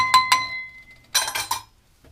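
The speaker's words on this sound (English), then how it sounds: "stir it around until it all gets dissolved" A spoon stirs washing soda and borax into hot water for homemade laundry soap: two sharp, ringing clinks against the container, then a pause and three quick scraping swishes, close and fairly loud.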